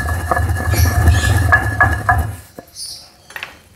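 Garlic cloves dropped into a stone mortar while making tomato chutney, giving a few sharp clinks and knocks against the stone, close and fairly loud, followed by a brief quiet stretch.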